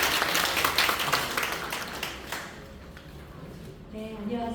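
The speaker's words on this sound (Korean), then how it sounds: "박수 부탁드립니다" Applause from a lecture audience greeting the speaker at a talk on modern European church architecture, a moderate burst of clapping that fades after about two seconds, with a voice beginning to speak afterward.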